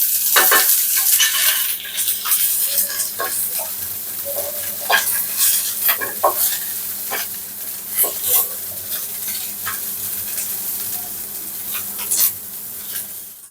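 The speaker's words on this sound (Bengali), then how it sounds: "তো আমার এই পেঁয়াজ রসুন এগুলা ভাজা হয়ে গেছে" Chopped onion and garlic fry in a pan while a spoon stirs them, giving a steady close sizzle broken by repeated scraping strokes, with no talk.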